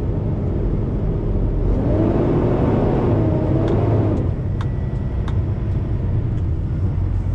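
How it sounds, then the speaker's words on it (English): A truck's automatic transmission revs up, a broad engine rumble rising in pitch and then easing off as it shifts, loud and close inside the cab with no talk. "Why did my transmission just decide to rev up there like that?"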